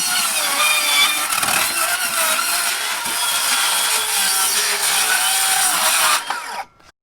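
Metabo HPT 36V MultiVolt cordless circular saw cuts steadily through wood, a loud, close, high whining buzz lasting several seconds before spinning down at the end.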